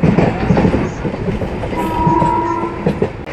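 Clattering wheels and a rolling rumble from the Venkatadri superfast express, Chittoor to Kacheguda, fill a continuous on-board run; a faint sustained horn-like tone rises midway above the rhythmic track noise.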